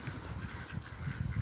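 Ducks on the water at Whittlesey Back Water in Cambridgeshire give faint, rapid quacks in short repeated bursts, heard from a little distance.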